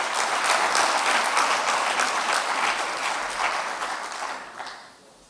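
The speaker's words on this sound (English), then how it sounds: "So let's clap Santi and Eloi from Playmodes" An audience at a talk on mapping the night sky applauds two speakers, producing a full, continuous wash of clapping that holds steady for several seconds before tapering off.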